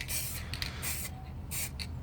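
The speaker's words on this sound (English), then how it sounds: "I'm just going with light sprays." Short hissing bursts of aerosol spray paint, light passes several in a row with brief gaps between them, close by.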